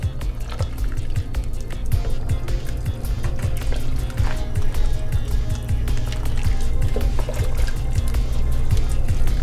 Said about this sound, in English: Now let's go ahead and give it a stir.